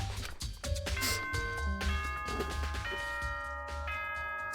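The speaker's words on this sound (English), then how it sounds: "Ding dong, bing bong." An electronic ding-dong announcement chime from the Danganronpa: Trigger Happy Havoc video game rings out as a sequence of clear bell-like tones stepping in pitch, fairly loud and with no talk over it.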